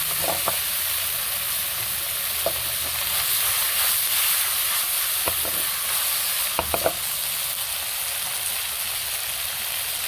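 Matsutake mushrooms stir-fried dry in a pan, a steady loud sizzle with scattered scraping clicks of a utensil stirring, no voices.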